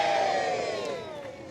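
A crowd cheers at a record-length Scalextric slot-car race, a loud massed roar of voices with sustained shouting that slowly fades slightly across the clip.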